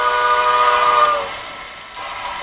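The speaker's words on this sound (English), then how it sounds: "or the whistle." A short, loud steam-style whistle from a Bachmann 2-6-0 model train sounds with a rich chord of tones, then fades into a soft hiss.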